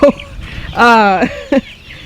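Chickens cluck and squawk close by, with one longer drawn-out call in the middle and short clucks before and after.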